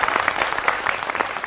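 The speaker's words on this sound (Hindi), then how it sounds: "इस पर भी ताली बजाइए।" An audience claps at a public speech, a short burst of fairly faint, scattered applause with no talking over it.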